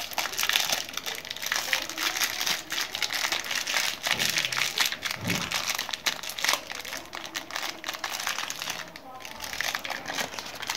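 A plastic bag crinkles and rustles continuously close up, crisp and busy, while people talk quietly underneath.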